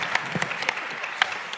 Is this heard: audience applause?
yes